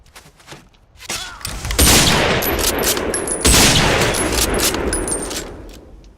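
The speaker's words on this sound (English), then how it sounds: "if I can find myself some targets to shoot at, I can actually show off one of the guns" Rapid bursts of gunfire from modded guns in the game Skyrim, loud dense volleys with a lingering rumbling tail and a few sharp metallic pings.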